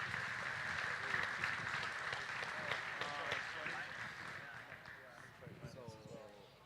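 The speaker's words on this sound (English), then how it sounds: "Let's give them another round of applause." Audience applause at a beef cattle show at a state fair, a steady wash of clapping from a crowd that carries through the whole stretch, with an announcer's voice speaking over it.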